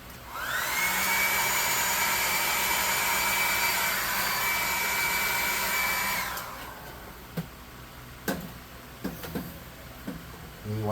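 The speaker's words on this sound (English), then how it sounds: "Hair dryer." A hair dryer blasts steadily to knock loose dust off a miniature display surface, a loud whirring rush lasting about six seconds before cutting off, followed by a few scattered clicks and knocks.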